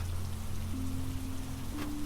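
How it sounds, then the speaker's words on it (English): Steady rain patters on the roof of a seaside cabin, a continuous soft hiss with faint low hum beneath, close and even throughout. "the steady whisper of rain above"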